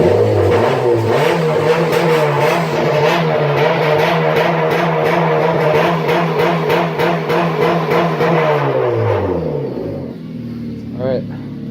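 A car engine with a rigged-up beer can patched into its exhaust is revved hard and held high for several seconds, a loud, steady buzzing drone that winds down near the end.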